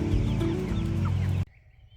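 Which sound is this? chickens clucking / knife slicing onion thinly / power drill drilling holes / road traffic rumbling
chickens clucking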